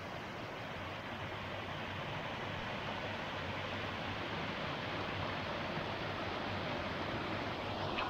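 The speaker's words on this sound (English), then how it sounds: "Waterfall." A waterfall seen on an outdoor walk near an old English inn, a continuous broadband rush of falling water, steady and fairly faint, with no talking over it.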